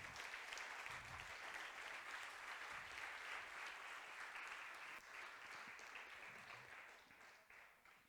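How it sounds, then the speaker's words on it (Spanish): Sustained congregational applause fills a church service during a Sunday sermon, a dense steady wash of many hands clapping that holds evenly for several seconds before thinning slightly toward the end. "Dele otro aplauso al Señor."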